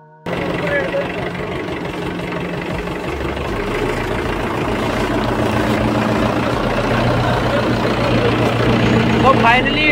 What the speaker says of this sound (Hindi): तो चलिए अभी ट्रैक्टर लेकर आ जाता हूँ मैं।